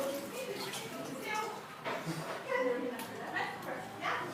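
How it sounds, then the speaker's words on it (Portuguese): A dog gives a few faint, short barks and yips amid indoor voices and background clatter. "Cachorro louco, cachorro louco."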